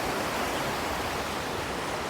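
Rushing creek water at Canada Creek Falls near Suches, Georgia, a loud, steady broadband roar of flowing water that fills the clip without a break.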